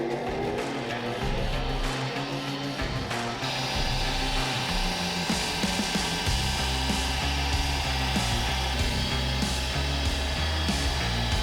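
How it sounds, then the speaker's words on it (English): Milling machine cutting a slot into katana handle material in a workshop, a loud, steady grinding machining roar that shifts in tone partway through and runs continuously without pause. "I'm taking the bulk of the material off with the milling machine"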